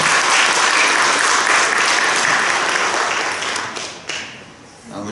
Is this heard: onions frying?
no